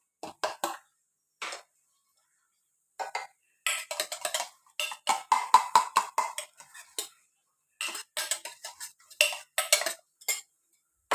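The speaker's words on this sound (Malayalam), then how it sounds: "ഇത് മൊത്തം ഈ മുട്ടയിലിട്ട് നല്ലവണ്ണം ഇളക്കി കൊടുക്കാം." A utensil stirs oats into beaten egg for an omelette in a bowl, quick bursts of clinking, scraping strokes that come in short rhythmic clusters separated by brief silences, close and clear.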